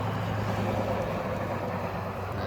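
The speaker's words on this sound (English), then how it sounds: "old loud truck, lots of lifted trucks with mud tires on around here where I live." An old, loud lifted truck on mud tires rumbles by with a steady, low, heavy engine drone that stays fairly constant and slightly distant, with no talking.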